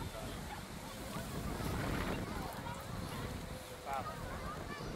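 Wind blows outdoors during kite flying, a rushing, buffeting roar against the microphone that surges and eases, with faint voices in the background.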